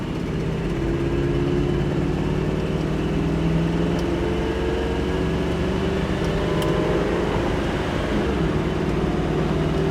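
A 1969 Chevrolet Camaro Yenko-style V8 driven on the road, a steady low engine drone with subtle pitch changes as the transmission shifts, heard continuously from inside the car without talking.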